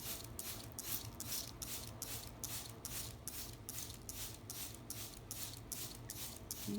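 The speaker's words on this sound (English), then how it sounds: "Other than that my spray bottle is kind of squeaky." A squeaky plastic spray bottle mists water to make rain over a tank model, firing about fourteen quick, evenly spaced hissing bursts, each with a slight squeak, close and fairly quiet.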